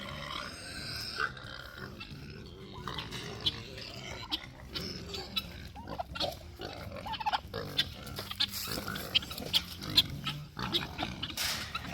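Pigs on a farm grunt and oink repeatedly at close range, with irregular snorts and burp-like bursts scattered over a low background, growing busier and louder toward the end.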